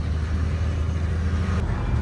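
A 1955 Plymouth Savoy cruising down the road, a steady low engine rumble with continuous road and wind noise from inside the car, even and unbroken for the short stretch.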